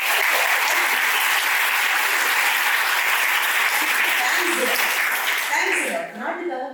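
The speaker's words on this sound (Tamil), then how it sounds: "இந்தியா தான் கை தட்டலாமா?" A crowd of school students in an auditorium applauds loudly and continuously for India, the clapping thick and steady before thinning out at the end as voices begin to come through.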